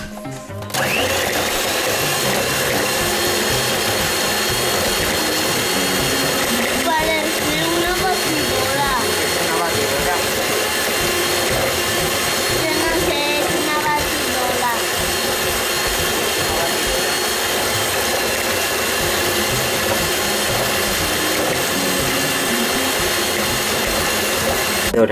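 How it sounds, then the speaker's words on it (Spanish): Electric mixer beating softened butter for simple ginger cookies, a steady loud whir running continuously for the whole stretch, with faint voices talking in the background. "lo primero que vamos a hacer es batir la mantequilla que tenemos a punto pomada"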